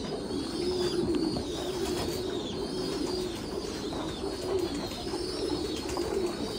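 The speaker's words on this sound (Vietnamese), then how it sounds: "Ví dụ như dòng chim bồ câu xòe mọi người đang thấy trên màn ảnh nhá" Fantail pigeons at a breeding farm coo steadily, several birds close and loud, their soft throaty calls overlapping continuously over a busy background.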